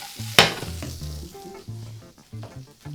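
Potato chunks sizzling in a pan with rosemary and garlic, a steady close frying hiss with a sharp scrape or stir near the start, set against a faint musical backdrop.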